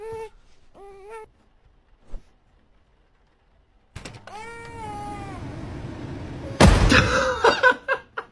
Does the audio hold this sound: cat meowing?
yes